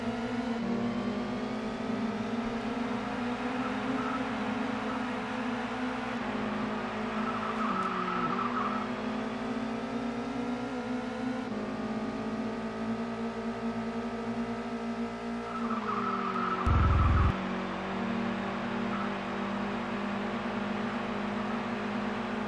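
A touring race car's engine drones continuously in the PlayStation game Toca World Touring Car, its pitch rising through gears and dropping at shifts over a long stretch, loud and steady.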